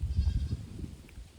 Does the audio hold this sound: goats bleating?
yes